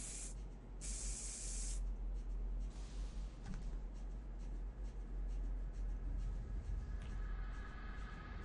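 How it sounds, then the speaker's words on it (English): Spray bursts in the video game Space Station 13, a couple of sharp hissing blasts early on over a steady, noisy game background with faint scattered clicks. "Spray."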